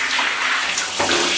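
A shower runs steadily while hair is rinsed and detangled, a close, dense hiss of water pouring with a slight shift in splash near the end, no talking.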